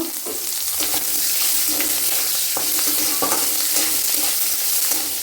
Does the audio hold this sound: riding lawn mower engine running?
no